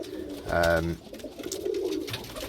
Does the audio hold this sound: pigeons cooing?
yes